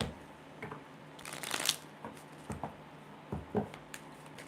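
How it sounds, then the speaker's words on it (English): Cards are riffled and shuffled up close in a few quick bursts, with softer taps and slides between them. "Let's do a quick shuffle"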